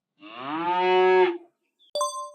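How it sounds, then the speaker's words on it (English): A cow gives one long, loud, close moo lasting about a second, followed by a short bright ding like a bell, with no other voices. "What sound does a cow make?"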